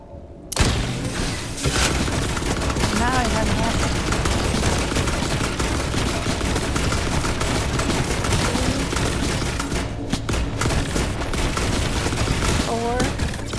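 Gunfire in the sci-fi survival game The Last Caretaker, a sustained loud barrage of rapid shots and booming thuds lasting many seconds, with chirping electronic tones and a voice talking underneath.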